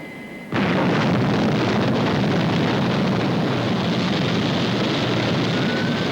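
Thunderbird 1 rocket aircraft blasts off with a sudden loud roar that bursts in after a quiet moment and holds as a dense, continuous rushing thunder to the end.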